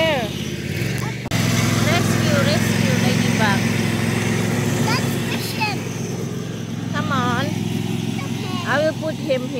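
Lawn tractor engine running steadily and loud while a garden is cleared of leaves, a continuous close drone with children's and adults' voices and chirpy calls over it.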